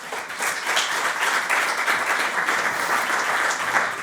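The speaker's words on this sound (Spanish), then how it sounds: "Un aplauso para él." An audience applauds a panel speaker at an event on pension sustainability, a dense, steady clapping that stays loud and even for the whole few seconds with no talking over it.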